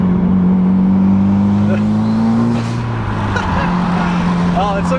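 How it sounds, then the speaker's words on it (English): A Mitsubishi Evo IX with its turbo engine droning and revving while driving, a loud, sustained cabin engine tone that rises and falls, with faint turbo flutter near the end. "Get those turbo noises."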